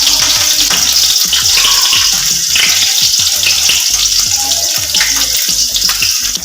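Ginger and green chili sizzle and crackle loudly in hot oil in a village-style kitchen, a steady dense frying hiss with occasional stirring clatter throughout.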